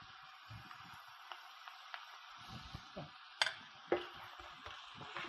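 Minced garlic and sugar being stir-fried with doubanjiang paste for clam mapo tofu, a steady low sizzle with scattered scraping stirs and a couple of sharper utensil clicks against the pan, fairly quiet and close.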